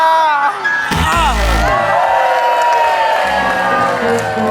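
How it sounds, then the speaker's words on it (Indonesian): A lively crowd cheers and shouts with scattered clapping, loud and continuous, with voices calling out over the noise. "Tepuk tangan Bang"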